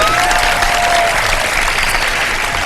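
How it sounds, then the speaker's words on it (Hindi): Loud, dense applause from a studio audience at a televised Ramadan sehri show, steady and sustained for the whole stretch with a faint crowd murmur beneath. "अपने लिए तालियां बजा दें एक दफा ज़बरदस्त।"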